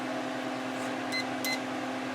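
An electrical meter used to test for a ground gives two short, fairly faint beeps in quick succession over a steady electrical hum.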